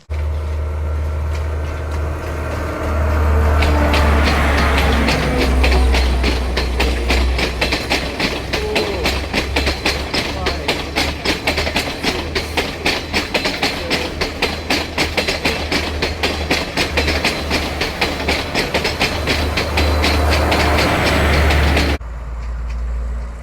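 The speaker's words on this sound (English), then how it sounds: "you just saw the beautiful Podimanikate departing Hiloy railway station" The Podi Menike passenger train pulls away from Heel Oya railway station, growing from a low rumble into a loud, sustained clickety-clack of wheels on rail joints before cutting off abruptly.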